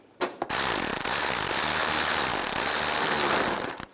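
A screw being run in with a powered driver on the upper grille of a 2010-2017 Chevy Equinox, a steady mechanical whirr lasting about three seconds, close and loud, with no talking.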